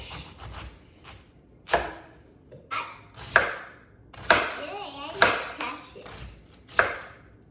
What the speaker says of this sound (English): Is that the way you always cut cabbage?